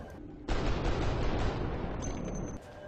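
Gunfire at a sectoid in the strategy game XCOM: Long War comes as a sudden dense burst of rapid shots, a rough continuous blast lasting about two seconds before cutting off.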